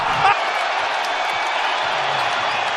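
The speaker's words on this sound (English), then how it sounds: "this sold-out crowd thundering its approval" A sold-out NBA arena crowd roars during a Cavaliers vs Timberwolves game. The broad, steady wall of cheering fills the whole moment at high volume, with a brief lower thump near the start.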